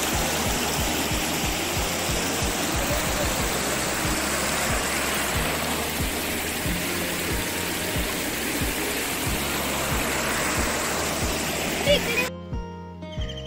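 A flowing river gurgles and rushes close by in a steady, dense wash of water that continues unbroken before ending abruptly near the end.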